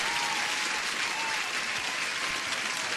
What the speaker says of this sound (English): Huge welcome and applause for everyone who joined.